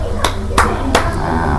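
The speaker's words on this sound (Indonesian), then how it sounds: "Ini tepuk tangan Islami" Children clap during an Islamic clapping song, three sharp separate claps in a quick rhythm over a low background hum with faint voices.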